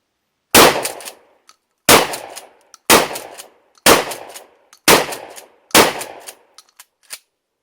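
Six loud, sharp shotgun blasts from a Mossberg 500 12-gauge fired outdoors, spaced about a second apart, each a hard crack trailing into a brief rumble, with small clicks and clatter between shots.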